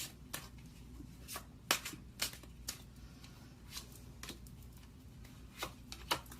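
Tarot cards are handled quietly, with soft, scattered snaps and riffles from shuffling and drawing, faint and close in an otherwise still room with no talking.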